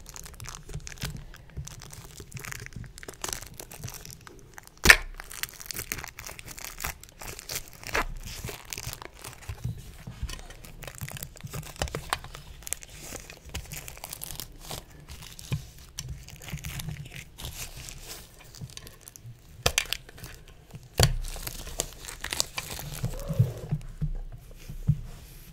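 Packaging on a Pokemon card mini tin being torn and peeled open up close, with crinkly tearing and scraping that keeps going throughout and a few louder rips.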